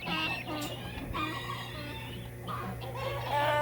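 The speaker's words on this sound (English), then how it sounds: "a rooster honking." A rooster crows among huddled chickens and ducks in a farmyard, a loud nearby call rising over soft clucking and background hum.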